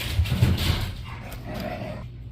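Dogs run around a home, making a close, busy rumble of scrambling paws and thumps with a soft whine from one of them, and no voices.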